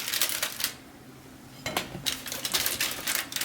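Plates being handled and slid into place while sesame wheat rolls are baked, with bursts of clattering, clinking ceramic separated by a quieter pause, close and fairly loud.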